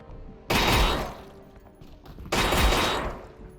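Gunfire in a virtual reality shooter game: two loud, dense bursts of rapid shots, the first at about half a second and the second near the middle, each trailing off, with no voices.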